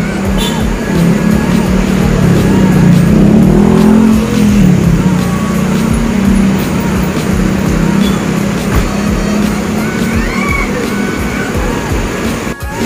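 A PO Haryanto coach pulls away from the Lebak Bulus terminal, its engine rumbling loudly nearby with a revving swell early on, amid traffic noise and voices in the background.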